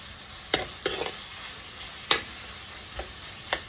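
Frozen shrimp sautéing in a pan for pansit, giving a steady faint sizzle broken by several sharp scraping stir strokes spaced a second or so apart, with no voices.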